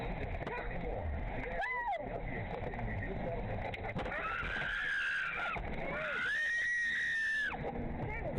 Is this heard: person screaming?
yes